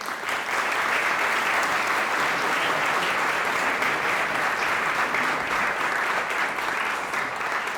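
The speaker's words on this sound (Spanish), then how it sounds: "Un aplauso para Lady, por favor." Sustained audience applause for an interviewee at a live event, dense steady clapping from a crowd that holds at an even level for the whole stretch without talk.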